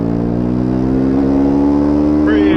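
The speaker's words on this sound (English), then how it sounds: "little blip of the throttle, and I'll give it a little bit" A Triumph Scrambler 400X single-cylinder motorcycle engine revs loud and close, its throttle opening into a steady, rising drone as the bike accelerates hard.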